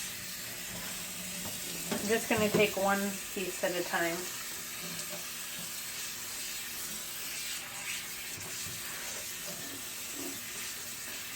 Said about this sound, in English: start lifting up the fabric and letting the water run over it